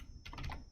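A single quick burst of a few computer keyboard keystrokes, soft and close, in a quiet room.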